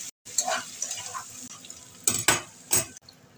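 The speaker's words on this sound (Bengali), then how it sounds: "এবার আলু আর চিকেনটা ভালো করে নাড়িয়ে চাড়িয়ে নেব" Chicken and potato pieces fry in a pan while a utensil stirs them, with a constant sizzle and several sharp scraping and clattering strokes, the loudest bursts near the end.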